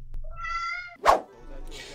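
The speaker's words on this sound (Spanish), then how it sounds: "esto es un gato" A cat gives a short, clear meow, close up, followed by a sharp thump and some faint room noise.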